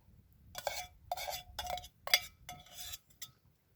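Stirring a pot with a utensil during backpacker-style cooking, a handful of short metallic scrapes and clinks in quick bursts, close and quiet with gaps of silence between.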